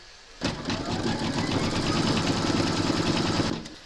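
An embroidery sewing machine stitches steadily into fabric held in a hoop, a continuous rapid mechanical whir and tapping that starts abruptly, runs for about three seconds, then stops; close and unaccompanied.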